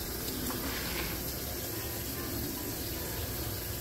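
Kitchen water running steadily while collard greens are washed, a constant near rush of tap or sink flow with no talk.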